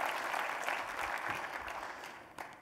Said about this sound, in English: Can we give a big round of applause to our sponsors?